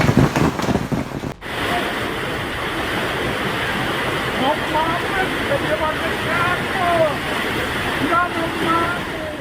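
A raging flood surges through a city street, a loud, continuous rushing roar of turbulent water that stays steady throughout after a brief sharp break near the start, with faint voices mixed in.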